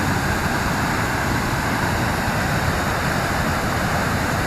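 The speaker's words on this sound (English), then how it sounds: "Last look at the Weir or Waterfall." Water pours steadily over a weir in Monsal Dale, a dense, constant rushing roar close by with no pauses or voices, loud and unbroken throughout.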